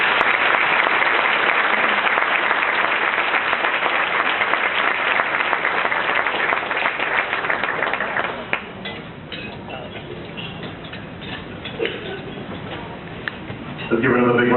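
An audience at a Urban Chamber of Commerce awards dinner applauds in a dense, sustained burst for about eight seconds, then the clapping thins to scattered hands under faint room murmur.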